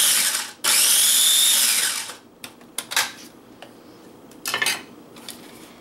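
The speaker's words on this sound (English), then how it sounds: "We're going to put just a pinch of our lime juice in there with that. And then blend that up" A kitchen blender whirs loudly for about a second and a half, blending a mixture with a pinch of lime juice, then stops. Short clatters and knocks follow with no talking.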